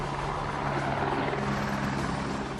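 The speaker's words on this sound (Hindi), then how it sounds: "आनंद फानन में हेलीकॉप्टर के जरिए इन लोगों का रेस्क्यू किया गया" A rescue helicopter lifts stranded pilgrims from a flooded river at Madmaheshwar Dham after a temporary bridge washed away, its rotor and engine making a steady, loud drone that fills the whole stretch without a break.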